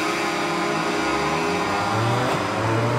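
A 500cc racing motorbike engine at a race start in MotoGP 21 on the Austria circuit, with a loud continuous droning roar that holds steady and climbs slightly in pitch.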